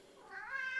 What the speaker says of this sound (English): Hence the meowing.